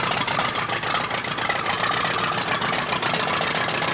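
A 1936 Farmall F20 tractor engine idles with a steady, rough, knocking rumble, close and continuous, with no voices.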